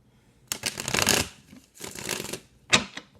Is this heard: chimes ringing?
no